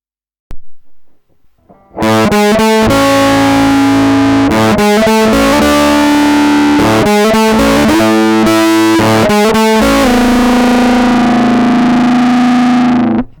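Electric guitar run through a DIY germanium Fuzz Face built with a leaky AC128 transistor, playing loud, thick distorted chords and notes with short breaks between phrases, then a long sustained chord ringing out alone.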